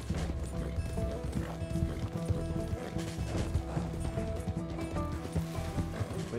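Horse hooves clip-clop in Red Dead Redemption II, a steady run of hoofbeats under a busy, dense game soundscape with mechanical clicking and no talk over it.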